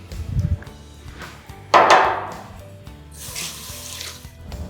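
Hands being washed under a running sink tap, with a brief splashing burst of water in the middle and a softer stream of running water afterward, heard close and without talking.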